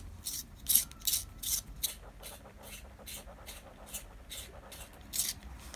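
A short pink HB pencil made in Japan is sharpened in a transparent handheld sharpener, giving close, rhythmic dry rasping strokes, about a dozen in a steady pulse with a few louder turns.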